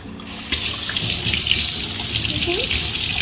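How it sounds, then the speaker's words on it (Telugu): Mushrooms rinsed under a running kitchen tap, a loud steady gush of water splashing into a sink that starts abruptly and continues close by, with a voice faintly in the background. "Let's wash them first."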